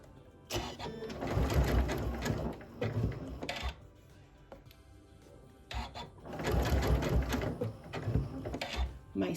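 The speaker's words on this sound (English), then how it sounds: "I'm just going to start zigzagging in a circle, catching both sides of my rope." A sewing machine runs a zigzag stitch around a coiled rope bowl, two long whirring, rattling bursts of needle action separated by a brief pause, close and fairly quiet.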